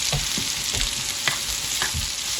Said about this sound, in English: skillet hot bacon grease in this one, right? To cook these in